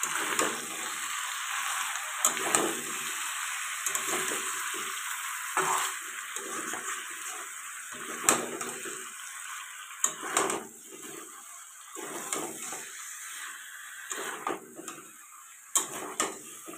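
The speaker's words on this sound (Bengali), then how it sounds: "এখন ভালো করে কষাতে হবে।" Spices with turmeric fry in a pan while being stirred, giving a quiet, continuous sizzle broken by repeated soft scraping strokes at an uneven rhythm.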